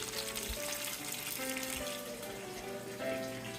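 Lumpia frying in hot oil, a steady soft sizzle with bubbling crackle, fairly faint and continuous with no talk over it.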